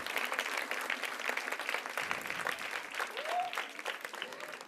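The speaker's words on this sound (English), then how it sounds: "So a big, big round of applause for the teachers as well." An audience at a school annual day applauding the teachers with sustained, dense clapping that fills the room, steady and moderately loud, with a faint voice briefly audible beneath it.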